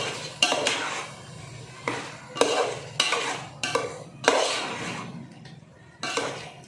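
Food being stirred in a cooking pan, with a spoon scraping and clanking against the metal in repeated bursts of clatter separated by brief pauses, close and fairly loud.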